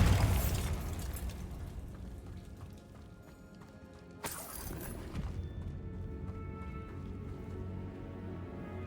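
Bombarda spell blast in Hogwarts Legacy, a loud crashing explosion with shattering debris at the start, then a second sharp burst midway, followed by rumbling, clattering fragments and mechanical rattles fading out.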